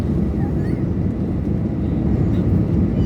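A passenger airliner on a flight from Kathmandu to Bengaluru takes off at full power, producing a loud, steady, close engine roar with dense low rumble and continuous noise throughout. Faint voices may sit beneath the roar.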